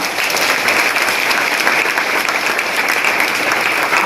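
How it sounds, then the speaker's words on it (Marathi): An audience at a religious discourse bursts into loud, sustained applause, with dense, even clapping that fills the whole stretch without a break. "टाळ्यांचा प्रचंड कडकडाट"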